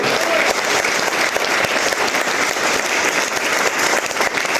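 A packed seminar audience gives vigorous, continuous applause, many hands clapping in a loud, dense wash that barely varies, with faint crowd murmur beneath.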